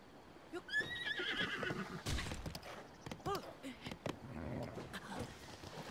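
A horse whinnies in The Legend of Zelda: Breath of the Wild, a bright rising-and-falling neigh up front, followed by scattered hoof-like thuds and game noises with brief voice-like bursts.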